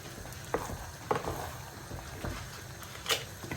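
Hotdog pieces being stirred into baked macaroni sauce in a pan give a soft, steady simmering sizzle, broken by a few faint scraping clinks of the spoon.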